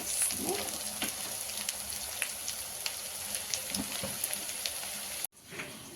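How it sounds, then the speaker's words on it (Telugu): Tomato for egg bhurji fries in a pan with a soft steady sizzle and scattered light crackles and pops, close and quiet, ending in a sudden brief dropout. "అలా బాగా ఫ్రై చేసుకోవాలండి."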